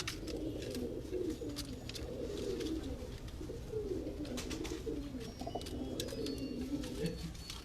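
Several pigeons coo in low, repeated murmuring phrases on a rooftop in Rawalpindi, with faint rustling and clicks around them.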